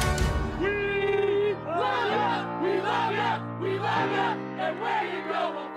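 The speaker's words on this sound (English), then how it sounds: "They're applauding and they're chanting, USA, USA." American Outlaws football supporters chant in a crowd, their voices rising and falling in a rhythmic, sung pattern that carries loud and close for several seconds.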